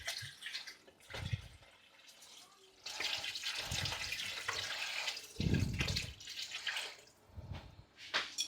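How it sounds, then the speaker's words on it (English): Water is poured into a cooking pot for Nigerian ogbono soup, coming as several soft splashing bursts with quiet gaps between them, faint and close. "I'm gonna go ahead now to add water for cooking."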